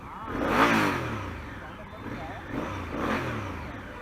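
A Honda Africa Twin motorcycle engine revs up and down in two swelling pulses, moderately loud and close, with a voice faintly mixed in.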